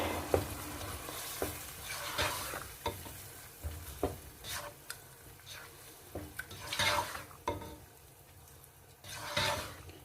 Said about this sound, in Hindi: साग ऐड करने के बाद इसको अच्छे से मिक्स करेंगे हम